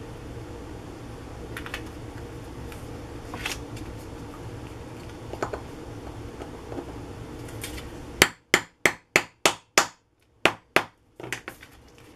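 Quiet rustling and faint handling give way to a rapid series of about eight sharp metallic hammer strikes on an eyelet setting tool, loud and close, with brief pauses.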